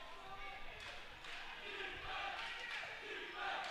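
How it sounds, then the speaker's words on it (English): Basketball fans in a varsity high school gym cheer and shout together, a broad crowd roar at moderate distance, rising slightly toward the end. "And the fans cheering about something on the court."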